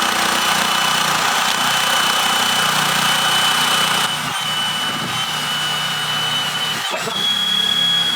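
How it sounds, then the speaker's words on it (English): An angle grinder fitted with a flat disc and a wire wheel works steadily on rusty metal of a BMW E36, a continuous loud whine and rasp close by, with a brief dip partway through. "we're just going to attack this with a flat disc and a wire wheel"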